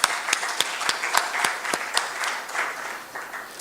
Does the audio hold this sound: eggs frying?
no